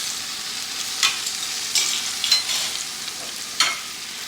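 Korean japchae noodles being stir-fried with soy sauce in a pan, a steady close sizzle with several brief scraping stirs breaking through, and no voices.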